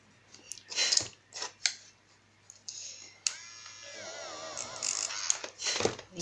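A small battery-powered electric eraser buzzes in short bursts against paper, with scattered rubbing, clicks and handling noises in between.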